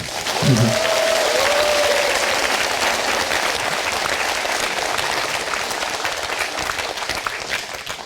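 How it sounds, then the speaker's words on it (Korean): A large crowd applauds loudly and continuously at a cathedral lecture, with a brief voice at the start before the clapping carries on steadily. "그 성인을 따뜻한 마음으로 큰 박수로 환영합시다"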